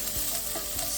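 Parsnips and carrots sizzle in a hot pan while being stirred, a steady close frying hiss broken by a few soft scraping thumps from the stirring.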